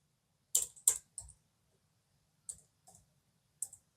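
A few separate clicks on a computer keyboard while text is being typed into a video editing program on a computer, sharp and close, spaced out in small clusters with quiet gaps between them.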